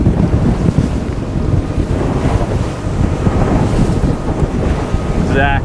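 A Lomac Adrenalina 7 boat runs offshore through waves, with a loud, steady rush of water and hull noise, heavy wind buffeting the microphone, and no talk.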